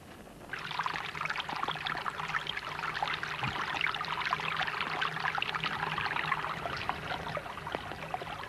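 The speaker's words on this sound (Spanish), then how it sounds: "Se forman los primeros charcos y se rebosan en rápidas torrenteras de agua." Rainwater runs in fast torrents down a rocky ravine on an island, making a continuous, splashy, gurgling flow that starts suddenly and keeps a busy, moderately loud trickling texture throughout.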